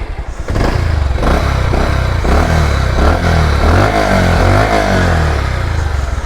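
A Bajaj Pulsar motorcycle engine with 28,000 km on it idles close by, then revs up and down repeatedly in loud, throaty bursts with a rattling mechanical clatter.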